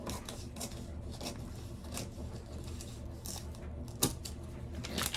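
Scissors trim paper for a card envelope in a string of quiet, closely spaced snips, with one sharper cut near the end.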